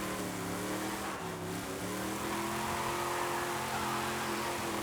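A car engine in Forza Horizon 5 pulls steadily in third gear, its rising drone holding loud and continuous throughout with no talking.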